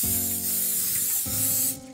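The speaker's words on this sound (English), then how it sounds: "spray a little bit of nonstick cooking spray just to make sure that it doesn't" Nonstick cooking spray sprayed from an aerosol can onto baking pans: two steady hissing bursts of about a second each with a brief break between, close and loud.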